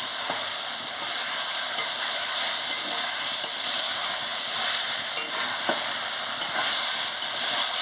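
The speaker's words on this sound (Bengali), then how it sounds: "আলু আর এই ঝিঙেগুলোকে ভালো করে কষিয়ে নিচ্ছি" Potatoes and ridge gourd being sautéed in a pan for a poppy-seed dish give a steady, close sizzle and hiss throughout, with a few faint scrapes and taps mixed in and no voices.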